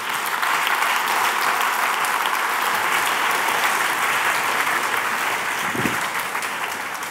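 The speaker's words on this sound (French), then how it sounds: "Merci à présent d'applaudir le candidat" A hall audience at the Swiss final of a thesis-in-180-seconds contest applauds a contestant, a dense, steady roar of clapping sustained at even loudness from start to finish.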